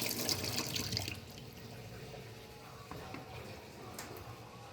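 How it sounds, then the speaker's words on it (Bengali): Green tomatoes are washed under running tap water, a soft steady stream splashing into a sink with faint clicks of handling, heard quietly and without talk. "এবার টমেটোর বোটা খুলে ধুয়ে নিলাম।"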